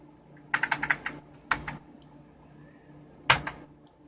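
Fingers type on a desktop computer keyboard in short clattering bursts: a quick run of keystrokes, a couple of isolated taps after a pause, then a final sharp cluster, all close-up in an otherwise quiet room.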